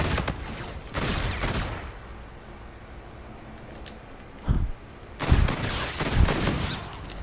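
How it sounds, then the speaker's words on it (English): Rapid bursts of gunfire from a video game, several loud clusters of fast shots separated by quieter gaps, with no speech over them. "And that gun shoots fast."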